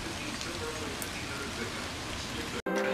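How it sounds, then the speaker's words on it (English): Rain falls outside as a steady, even hiss with scattered drops, running for a few seconds before an abrupt cut to a different scene. "They predicted rain today, and it made it most of the day."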